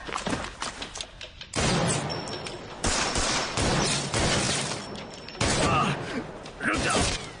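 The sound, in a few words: gunfire, many shots fired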